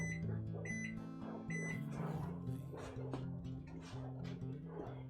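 A kitchen timer being set, with short electronic beeps sounding over a steady hum and background noise, fairly faint and close.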